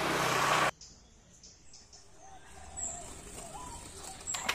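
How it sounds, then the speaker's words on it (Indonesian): A few soft zebra dove (perkutut, Bangkok type) coos drift in faintly after a brief loud burst of noise, with distant traffic rumbling in the background. "sekarang anak-anak muda banyak yang ternak perkutut, karena suaranya ini khas."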